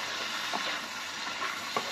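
Shrimp with garlic frying in a pan give a steady close sizzle and hiss, moderately loud, with a few faint stirring scrapes and no talking.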